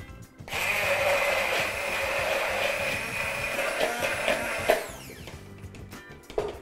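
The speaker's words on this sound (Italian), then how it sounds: "E frulliamo col nostro mini pimer." A mini hand blender whirs through gorgonzola and fresh cream with a steady high motor whine for about four seconds, then cuts off, followed by light clatter.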